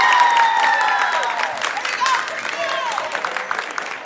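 Visiting crowd at a girls varsity basketball game cheering and applauding, a loud wash of noise that fades gradually, with whistles and voices cutting through near the start.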